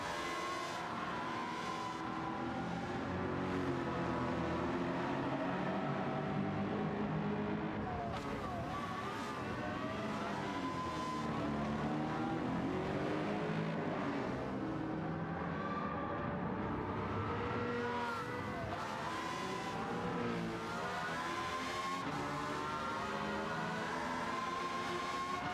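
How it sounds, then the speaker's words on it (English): Lamborghini Aventador in Gran Turismo 7 during a race replay, its engine loud and continuous with rising and falling revs as gears change, heard alone without talk. "Oh, that Aventador sounded amazing."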